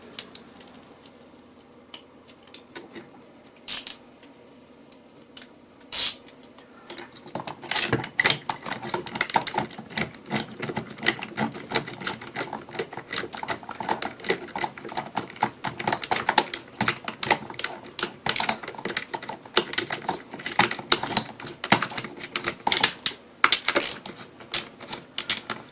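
Screws tightened on a connection terminal strip for a washing machine motor control setup, heard as many small sharp clicks and ticks of a screwdriver and metal parts, sparse at first, then dense and continuous, close and fairly loud.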